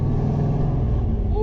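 Deep, steady exhaust rumble from a car with a newly installed custom exhaust, idling and revving close by, loud and continuous with a strong low-pitched drone throughout.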